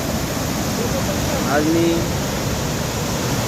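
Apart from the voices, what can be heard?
Sahastrakund waterfall flowing forcefully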